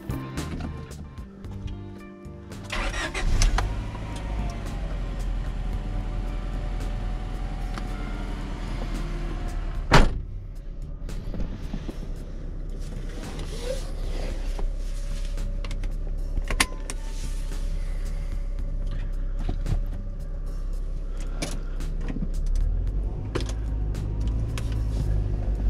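Honda Prelude VTi engine running steadily through a long stretch, with a brief start-up burst near the beginning, a sharp click around the middle and a continuous low drone underneath, heard without talk.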